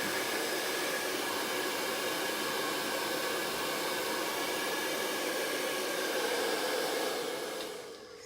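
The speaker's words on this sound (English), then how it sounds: "I'm going to hit that with a blow dryer just because I want to speed the process along" A cool-setting hair dryer blows with a loud, steady airy roar that holds constant, then winds down near the end.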